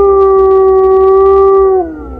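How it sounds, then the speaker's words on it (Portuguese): A huge black dog howls in one long, sustained, wavering tone that holds steady and then slides downward near the end, loud and close. "aquele enorme cachorro preto, sai correndo, uivando."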